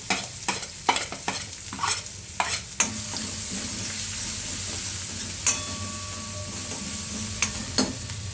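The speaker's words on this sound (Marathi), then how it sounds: "त्याला 2 मिनिटं मी चमच्याने हलवून घेणार" Garlic fries in a pan for a methi paratha filling while a spoon stirs it, giving a steady sizzle with several sharp scrapes early on and a few more later, close and clear with no talk.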